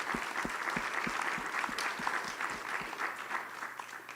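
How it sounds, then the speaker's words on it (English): Audience applause for two candidates at a town candidates forum, a steady wash of many hands clapping at moderate level with no voices over it. "let's please offer applause to both candidates for their willingness to answer your questions together on the same stage"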